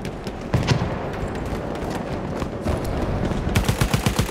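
Rapid gunfire in the Battlefield 1 video game: sharp shots and automatic bursts crackle over a constant battlefield din, loud and close, with no talking.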